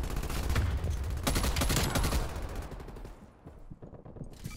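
Rapid bursts of KSP 45 rifle fire in Call of Duty Cold War, dense repeated gunshots for about three seconds before tapering into quieter game sounds.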